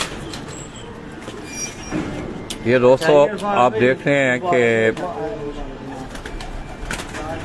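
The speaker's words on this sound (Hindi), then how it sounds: "ये कबूतरों को उन्होंने अंदर केज के अंदर किया है।" Caged pigeons coo in a burst of repeated throaty calls close by, while someone speaks briefly before and after.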